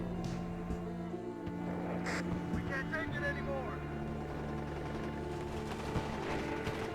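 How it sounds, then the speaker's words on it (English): In the WARNO war game on a city map, artillery fires and lands amid bursts of gunfire and a steady engine rumble, with overlapping booms and crackles. "You guys see the artillery coming in there."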